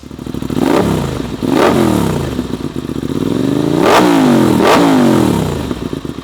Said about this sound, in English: it still has a spicy exhaust note